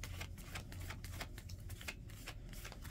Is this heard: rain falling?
no